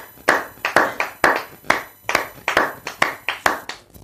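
Hands clapping in a church during a French-language service, in a steady, evenly spaced rhythm of sharp claps, about two to three per second, close and clear with no talking over them.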